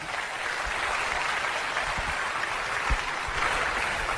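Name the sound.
audience applause welcoming a speaker on stage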